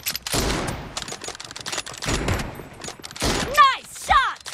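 Bursts of rapid gunfire from a PUBG Mobile team deathmatch crackle in quick volleys, mixed with game voice lines and sweeping electronic effect sounds near the end.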